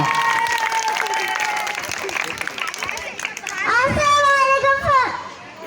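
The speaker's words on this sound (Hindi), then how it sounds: "आपकी तालियों में बेबी फबिया।" An audience of children and adults at a Pakistan Independence Day celebration claps and cheers, with children's voices mixed into the noise. The crowd sound grows louder toward the end.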